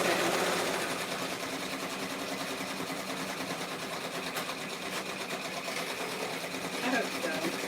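A sewing machine runs steadily while it stitches fabric for an Etsy craft item, a continuous busy whirring hum that fills the clip and only shifts slightly now and then.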